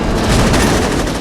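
Fully automatic gunfire from the video game Saints Row 2: a loud, continuous stream of rapid shots with no pause, filling the whole moment on its own.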